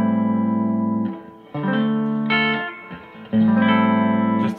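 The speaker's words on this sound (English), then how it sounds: "This is the bridge pickup with reverb." Electric guitar notes and chords on the bridge pickup through a Boss digital reverb pedal ring out with a bright, twangy tone and a wash of reverb, sustained phrases played alone and up close.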